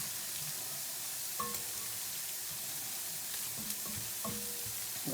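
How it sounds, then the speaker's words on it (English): Flour is stirred into green chili in a hot pan, making a soft, steady sizzle with scattered scrapes and clicks from the spoon. No one speaks. "I'm going to stir this up. We're going to cook the flour taste out of it."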